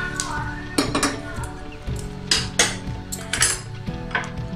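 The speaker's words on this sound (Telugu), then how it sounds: "ఒక కుడక తీసుకున్నా, చిన్నగా కట్ చేసుకొని మాడిపోకుండా ఇలా దూరగా వేయించుకోండి" Small pieces of dry coconut are fried in a pan and stirred. A utensil clinks and scrapes against the metal in irregular, fairly close knocks over a soft background.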